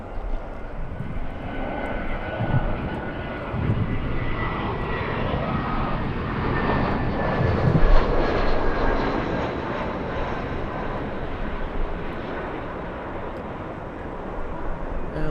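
A Delta Boeing 767 jet lines up on the runway at Los Angeles International Airport in gusty winds, its engines a steady broadband roar with a faint whine, swelling slightly midway and holding loud throughout.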